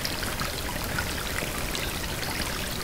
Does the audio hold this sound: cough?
no